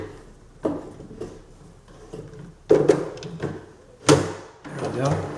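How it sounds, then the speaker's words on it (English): A wooden drawer from an IKEA Micke drawer unit slides into its frame, giving a few scraping slides and hollow wooden knocks, with two sharper bumps as it seats, close by. "Now I have a finished drawer, and it inserts like so."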